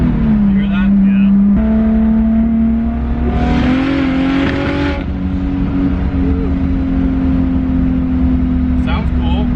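Big-turbo BMW engine running close by with a steady idle drone that rises into a rev and falls back, a faint rattle beneath it and no clear talking over it.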